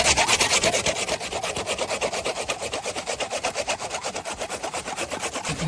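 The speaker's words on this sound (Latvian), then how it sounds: "Bērza zāģēšana dublis numur 2" Birch wood being sawn by hand: a steady rhythmic rasp of the blade on the wood, about three strokes per second, close and fairly loud, with no talk.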